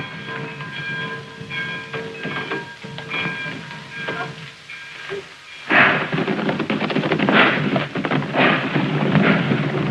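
A train rumbles steadily, and halfway through the noise swells into a louder, hissing clatter that continues to the end.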